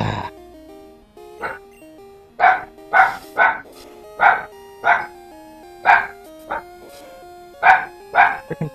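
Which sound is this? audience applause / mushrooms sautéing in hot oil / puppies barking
puppies barking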